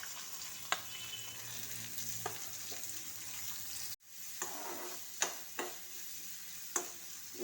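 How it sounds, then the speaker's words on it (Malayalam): Chopped onions fry in hot oil for a Kerala roasted-coconut egg curry, giving a soft, steady sizzle. A few sharp clicks of a spoon stirring the pan break through, and one brief dropout occurs midway. "ഉള്ളി ഒന്ന് പകുതിയൊന്ന് വഴന്ന് വരണം"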